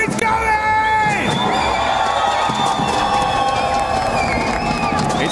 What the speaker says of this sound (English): Paris, I want to know, how loud can you get? Let's get some noise going!